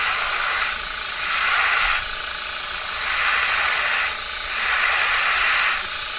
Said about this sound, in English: That's the fun about airbrush, is you can control it right from the get-go.